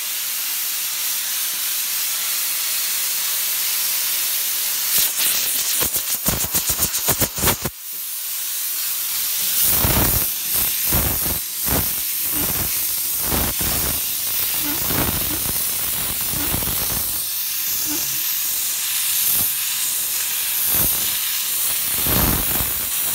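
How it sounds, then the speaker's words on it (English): An MA-FRA Geyser steam cleaner blasts dry steam from its nozzle at full power. A loud, continuous hiss runs with sputtering bursts, then a sharp, gusting spray that keeps pulsing near the microphone. "First, dry steam. Steam power full nozzle to the left."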